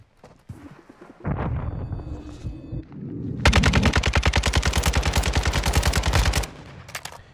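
Gunfire in Call of Duty: Warzone 2.0: a few scattered shots and a loud burst, then a long rapid automatic volley of evenly spaced, close, sharp cracks lasting about three seconds before cutting off.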